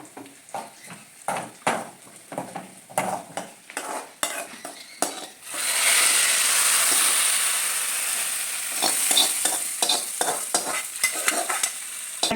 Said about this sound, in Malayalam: അതിലേക്ക് നമുക്ക് വറ്റൽ മുളക് ഇട്ട് കൊടുക്കാം